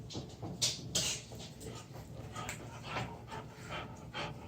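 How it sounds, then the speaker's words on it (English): Several dogs pant rapidly and steadily nearby, a rhythmic huffing breath that carries on throughout with a few louder snorty bursts. "Excuse the noise from my dogs."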